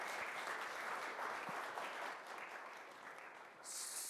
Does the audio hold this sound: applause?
yes